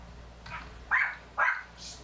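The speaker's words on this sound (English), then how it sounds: "Oh, here we go with the barky bark." A dog gives two short, sharp barks close by, separated by a brief pause, with a fainter yip before and after them over a quiet low hum.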